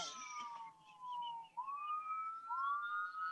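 A siren wails faintly in the distance during a planning board meeting, its tone sliding down and then rising again in long sweeps, with no voices over it.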